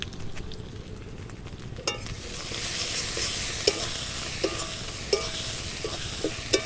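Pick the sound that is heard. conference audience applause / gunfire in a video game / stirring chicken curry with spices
stirring chicken curry with spices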